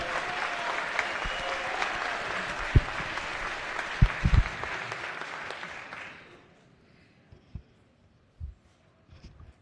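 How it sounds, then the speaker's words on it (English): Applause for visiting Glen Burnie Gophers students in a legislative House chamber: a sustained crowd clapping that fades out after about six seconds, leaving a few scattered thumps and faint room noise. "How about a round of applause for Glen Burnie Gophers?"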